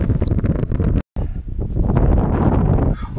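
Wind gusts across open water on the flats during a fishing trip, buffeting the microphone with loud, rough roaring that cuts out briefly and then rushes back.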